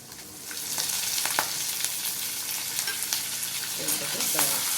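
Curry leaves hit hot oil in a pan of pongal with a loud close sizzle and crackle, brief spits and pops over a steady frying hiss.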